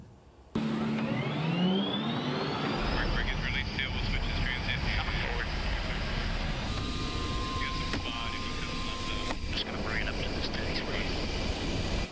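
A Black Hawk helicopter's engine and rotors drone loudly and continuously from inside the cabin in flight, a steady roar with a faint rising whine at the start.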